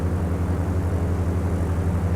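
Steady droning airplane engine in the Dovetail Flight School simulator on a flight from Lappeenranta to Mikkeli, a continuous low hum with a pulsing tone, alone and fairly loud.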